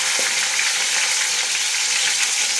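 Ginger, green chili and cumin paste fries in a hot pan, giving a loud, dense, steady sizzle with faint stirring scrapes and no voices.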